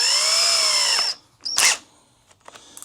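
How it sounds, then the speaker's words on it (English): A power drill fitted with a wire brush attachment whines loudly and steadily for about a second, spins down, then gives another short whirring burst, followed by faint clicks near the end. "So we're going to go ahead and put it in our drill"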